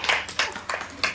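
A small group claps for the winner of a party game challenge: several short bursts of clapping in quick succession, close and fairly loud, with no talk.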